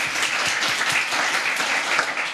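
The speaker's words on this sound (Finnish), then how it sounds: "vielä aplodit esityjille" Audience applause after a seminar discussion on housing policy, steady dense clapping from a crowd indoors, continuous and moderately loud throughout with no talk over it.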